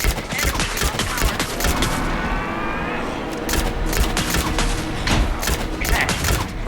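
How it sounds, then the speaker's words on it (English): Rapid gunfire from the video game Alan Wake 2 fills the scene, a dense fusillade of loud, overlapping shots and thuds rattling continuously with bursts of machine-gun fire throughout. "pin him down with gunfire for me to get the light on him"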